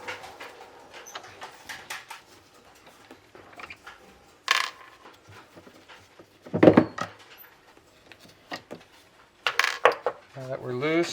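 Metal bolts being removed from a motorcycle fuel pump during an Acerbis fuel tank install, with scattered small metallic clinks and clatters, a few louder knocks and rattles of parts close by, and faint talk in the background.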